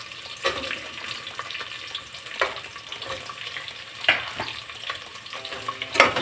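Chopped onions go into a hot pan for kushka and start frying with a soft sizzle, broken by sharp clinks and scraping stirs of a utensil against the pan.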